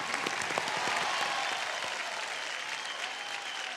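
A singing reality show studio audience breaks into full, dense applause, loud and continuous, a wash of many hands clapping together, with no voices over it.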